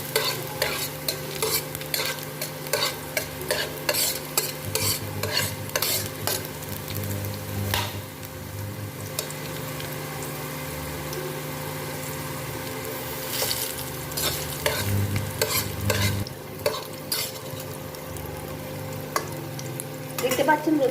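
Garlic cloves frying in a pan while being stirred, with steady sizzle and repeated scraping stir strokes throughout, close and moderately loud, no talking.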